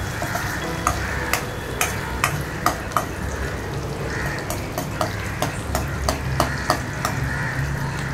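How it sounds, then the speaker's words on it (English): Chopped onion, garlic powder and green chilli sizzle steadily in a pan with oil, while a spoon clicks and scrapes against the pan in regular stirring strokes, close and continuous. "Saute it well till it is dark brown in color."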